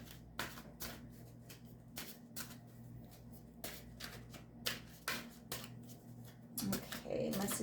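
Tarot cards are shuffled close by in a series of crisp riffling bursts with short pauses between them, quiet overall, and some handling noise near the end.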